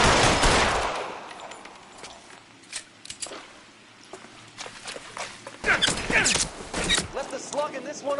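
Gunshots in an L.A. Noire shootout, with a heavy burst at the start, then scattered sharp shots and a cluster of rapid fire near the end, mixed with shouted voices.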